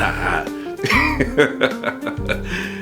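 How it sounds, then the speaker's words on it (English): Harsh, chesty coughing from a person with a cold in a short series of bursts, close up, with a throat-clearing rasp between them. "I'm off camera, I'm barking and coughing"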